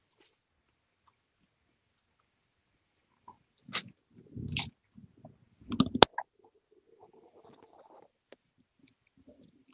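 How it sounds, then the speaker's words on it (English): Crunchy pretzels are chewed close to a microphone, a few short bursts of biting and crunching in the middle, then quiet with faint soft sounds. "let me know when if the chewing gets too loud"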